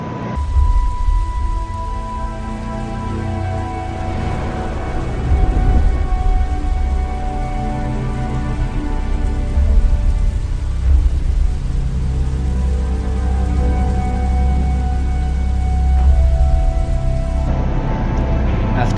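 A storm sound effect for a radio drama: steady, loud rain pours down with low rumbles of thunder rolling underneath, continuing without a break.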